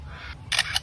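A lyrebird mimics camera shutter clicks, giving a couple of short, bright clicking bursts close by over a soft low background hum.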